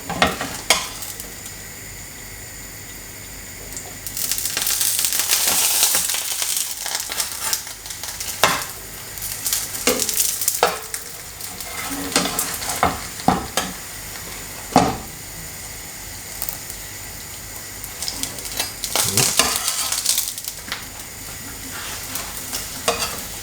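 Cheddar and chorizo quesadillas sizzle in a pan after being flipped, with a steady hissing fry punctuated by spatula scrapes and taps against the pan, close and clear.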